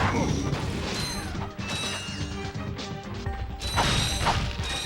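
A flamethrower weapon fires in the Ratchet & Clank video game, a dense, continuous roaring spray with clanking mechanical game effects layered over it, loud and sustained throughout.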